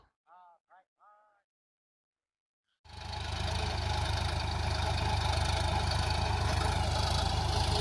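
A tractor engine runs loud and steady in a groundnut field during harvest, starting abruptly after a few short spoken words and a pause of silence, then holding a continuous rumbling drone.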